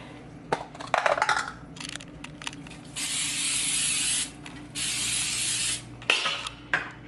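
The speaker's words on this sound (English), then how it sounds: "I'm going to spray this coconut oil spray on it" Several bursts of coconut oil aerosol cooking spray hiss close by, two long sustained sprays between short clicks and rattles of the can.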